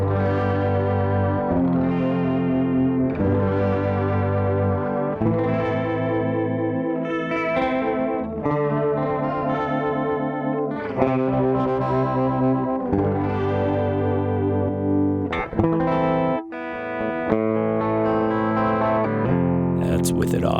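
Electric guitar played through a Boss DD-7 delay pedal in stereo modulate mode gives loud, continuous chorus-like repeats over strummed chords, with shimmering modulated echoes trailing each change, heard alone for about twenty seconds.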